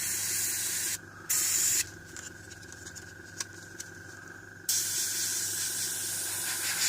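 Airbrush paint misted in short bursts onto a scale model, a steady close hiss with brief breaks between passes, no voices.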